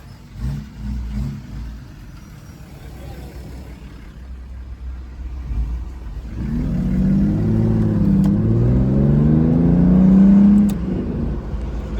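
An Aston Martin Vanquish engine idles low, then revs up in rising and falling sweeps, loud and close, before settling back to a rumble.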